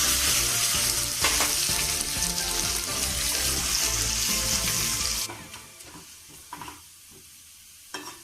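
Garlic sizzles loudly in hot oil in a pan over a lowered flame, a dense steady frying hiss for about five seconds before it drops to quieter crackles with occasional stirring clatter.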